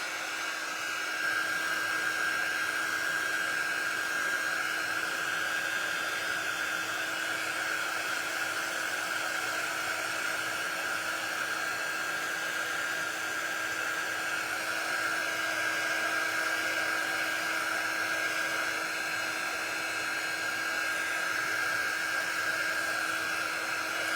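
A dryer blows steadily on a freshly painted tray, a loud constant whooshing roar with a fixed whine that holds unchanged throughout with no pauses; no talk.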